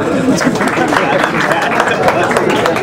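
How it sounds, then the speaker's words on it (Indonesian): Audience applause at a stand-up comedy show, loud dense clapping from a crowd with a murmur of voices mixed in, sustained evenly for a few seconds. "Tepuk tangan buat kalian semua."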